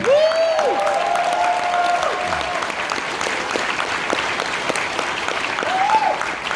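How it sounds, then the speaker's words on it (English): Applause for the winner rolls through a closing-ceremony crowd, continuous clapping with scattered cheers and whistles rising over it, staying loud and even throughout. "Round of applause for them"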